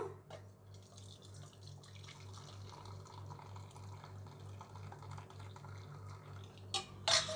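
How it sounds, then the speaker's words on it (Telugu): Water is poured off cooked dal in a home village kitchen, a soft, steady trickle and drip with faint metal pot clinks and a low hum behind it. "కొద్దిగా ఈ నీళ్ళన్నీ వంపేద్దాము"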